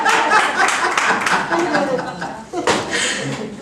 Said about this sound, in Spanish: Wow, hay que darle un aplauso